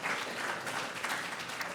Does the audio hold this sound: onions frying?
no